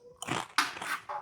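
Close crunchy bites into a crispy fried chicken drumstick, three crackly bursts in quick succession.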